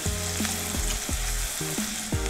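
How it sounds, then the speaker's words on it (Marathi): Chopped onion fries in a pan for palak paneer, giving a steady, close sizzle that never stops, with a few stirring clatters mixed in. "असा गुलाबी कलर होईपर्यंतच आपल्याला याला फ्राय करायचं आहे"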